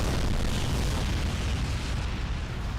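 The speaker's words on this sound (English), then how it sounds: "Gas station goes boom." A gas station blown up in the PC game Crysis Remastered, a dense, loud roaring blast that fills the clip and fades only slightly, with no talking over it.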